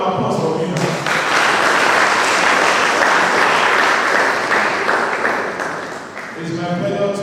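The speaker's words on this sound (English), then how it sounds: "A round of applause for me." An audience at an international law and society conference applauds the event anchor, loud sustained clapping that dips briefly near the end, with a voice speaking over it at the start and close.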